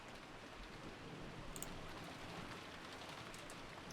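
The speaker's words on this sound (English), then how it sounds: "The only voice that called after them was the sound of the rain." Steady rain in a visual novel game, a continuous even hiss of falling drops with no talk over it, a few faint high ticks partway through.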